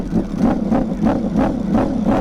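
A modified Ducati Panigale V4 R superbike with a dry clutch and aftermarket exhaust is blipped up in about five evenly spaced rev pulses over a steady, loud, deep idle, heard close up with no talking.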